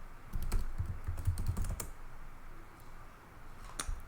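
Terminal commands being typed on a computer keyboard, with rapid close key clicks in a busy burst followed by a few scattered taps and a final keystroke.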